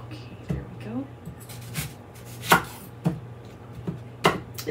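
A knife chopping onion on a cutting board, several sharp separate strikes spread out irregularly while a person talks throughout.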